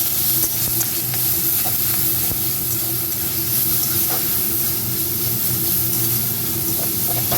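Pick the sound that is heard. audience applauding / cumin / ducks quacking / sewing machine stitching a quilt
cumin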